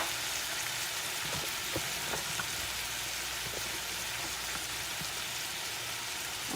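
Beef and its juices hitting a hot oiled skillet, a steady, dense sizzle and crackle close up with a few small pops, with no talking.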